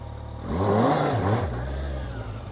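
Kawasaki Z1000SX motorcycle on a dirt surface as the throttle is opened, the engine note rising sharply from a steady idle into a loud, close rev that climbs and then settles back to a lower drone.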